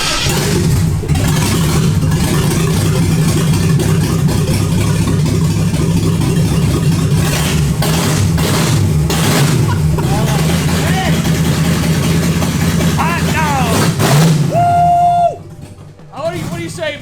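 A loud 4.3-liter V8 go-kart engine with a NASCAR exhaust drones and revs steadily with deep rumbling exhaust, pitch rising and falling, then cuts back near the end to a lighter idle.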